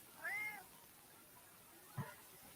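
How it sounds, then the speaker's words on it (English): A house cat gives one drawn-out, faint meow, then a short chirp about a second and a half later, in a quiet room. "Kitty, I don't speak Hebrew"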